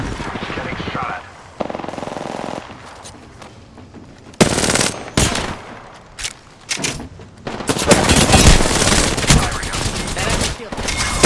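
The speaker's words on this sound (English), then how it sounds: "Enemy spotted. Getting shot at." Automatic weapon fire in Apex Legends, loud close bursts of rapid shots separated by short pauses, mixed with game sounds and a voice talking through part of the action.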